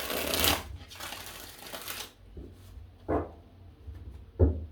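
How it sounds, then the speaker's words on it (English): Tarot cards are shuffled by hand, a dense riffling flutter for about two seconds, then three short, separate card slaps spaced apart, close and fairly quiet, with no talking. "2 more shuffles here"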